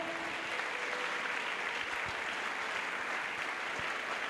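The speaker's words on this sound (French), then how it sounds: "A clap as they come forward." A congregation at an evangelistic crusade applauds steadily as people come forward, a dense, continuous wash of clapping heard from a little distance without a break.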